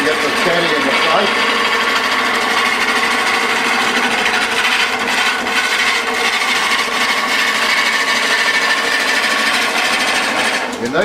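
Wood lathe turning a long thin timber spindle, a steady whirring drone with a scraping tool cutting throughout, loud and continuous.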